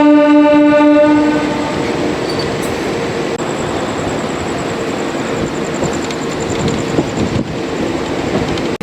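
A train rolls into platform 4 at Bardhaman junction at night, a loud horn blast opening the clip before giving way to a steady rumble and rattle of carriages close by, with no voices.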